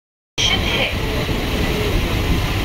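Howrah–Bardhaman galloping local train at a station at night, heard as a steady loud rumble of the running train with a brief higher hiss near the start, continuous throughout.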